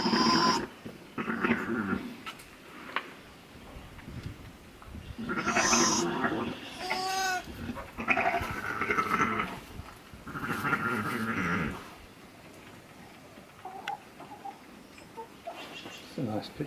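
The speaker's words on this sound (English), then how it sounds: "Oh, nice big strong lambs." Black Welsh Mountain sheep lambs bleating in short wavering calls, mixed with other bleats and a person speaking nearby.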